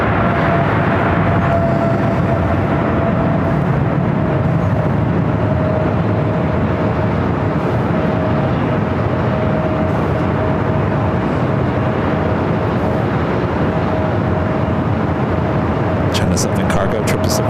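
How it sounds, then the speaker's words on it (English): A Boeing 777 cargo freighter jet takes off from runway 25 right on the south side at LAX, a loud, steady engine roar that holds throughout, with a faint tonal whine and talk over it. "Cargo 777 freighter taking off 25 right on the south side."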